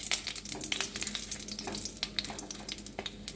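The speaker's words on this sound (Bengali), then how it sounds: "তেলকে ভালো করে গরম করে নিয়ে এর মধ্যে গোটা গরম মশলা আমি দিয়ে দিলাম, আর একটা তেজপাতাকে দিয়ে দিলাম, আর 3টা শুকনো লঙ্কাকে দিয়ে দিলাম।" Whole garam masala, a bay leaf and three dried red chillies fry in hot oil, giving a soft, steady crackle with scattered sharp pops, quiet and close, with no voices.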